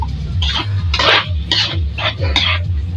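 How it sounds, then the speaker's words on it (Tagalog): Ground pork giniling stirred in a pan, about five separate scraping, rustling bursts from the spoon against the pan, close up, over a steady low hum. "Ayan, haluin po muna natin."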